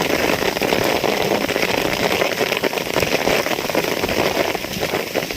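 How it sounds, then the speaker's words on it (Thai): Heavy rain pours steadily in a dense, hissing roar, with gusty wind noise mixed in throughout, loud and close. "ฝนตกแรงมาก ทั้งฝนทั้งลม"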